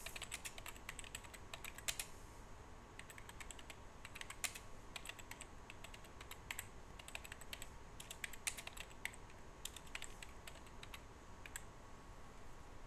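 Keys on a computer keyboard clatter in quick, irregular bursts of soft clicks as tags are typed in, close but quiet against a faint steady hiss.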